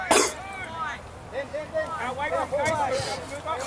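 A sharp cough bursts out at the start, followed by people talking casually nearby.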